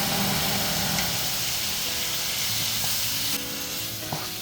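Chopped tomatoes frying in a pan while making chicken biryani, giving a steady loud sizzle and hiss that drops slightly near the end with a faint clatter.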